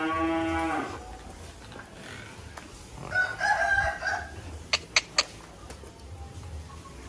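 A Belgian Blue crossed with Limousin, about 14 months old, moos in a low drawn-out call at a cattle farm in Kediri, East Java, followed by another distant moo and a few sharp bird chirps.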